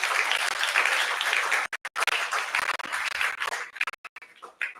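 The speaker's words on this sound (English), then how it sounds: "Just one more time, a round of applause for Jeff" An audience applauds a speaker named Jeff, dense clapping that thins out and breaks into scattered claps before dying away.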